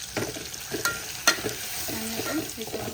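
Masala with turmeric, salt, tomato and garlic is sautéed in a pan, a soft sizzle under repeated spoon scrapes and clinks, close and moderately loud.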